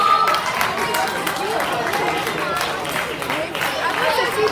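Audience applause at an athletics banquet, a steady wash of many hands clapping together with crowd chatter and voices mixed in throughout.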